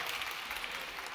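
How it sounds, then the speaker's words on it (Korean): Soft, dense applause from a church congregation, heard briefly and at a distance as a continuous wash of hand claps. "하나님께 영광의 박수, 감사의 박수 한번 드리겠습니다."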